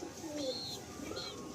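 Pigeon cooing inside a loft, a short soft burst of low coos with faint higher chirps over a muffled background.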